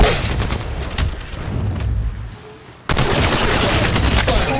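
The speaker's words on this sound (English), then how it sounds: "Getting shot at. Firing." Dense bursts of gunfire from the mobile battle royale game Apex Legends Mobile crackle loud and rapid, with a brief quieter lull before another sustained volley.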